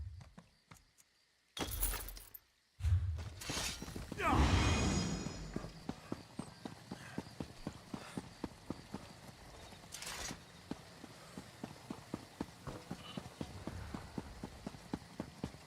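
Horse hooves clip-clopping in the Elder Scrolls Online game, a steady rhythmic trot after a few brief louder game sounds near the start, moderately close with faint ambient rain-like hiss beneath.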